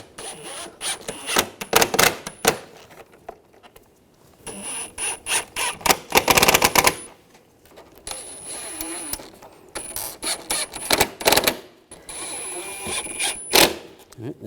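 Screws are driven and tightened to refit the grille into the bumper cover of a 2004–2009 Audi A4 Quattro, giving repeated bursts of ratcheting and rattling clicks separated by short pauses.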